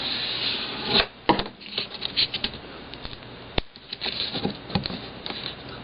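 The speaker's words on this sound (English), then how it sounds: "put my sticky strip on my fold. Burnish it down, probably would help." Sticky strip being burnished down onto a paper fold, close dry rubbing and scraping strokes in irregular bursts with brief pauses and a few sharp taps.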